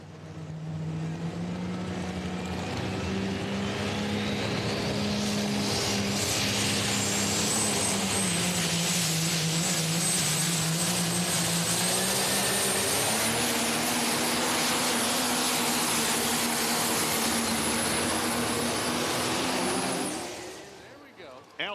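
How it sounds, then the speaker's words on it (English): An NTPA pulling tractor, the American Pride, roars loud and steady at the Tomah, Wisconsin Super Nationals, its turbine-like whine rising in pitch as it spools up through a long run before cutting off abruptly; an announcer talks over it. "Keith Witt, Warrenton, Missouri, the American Pride, spools things up."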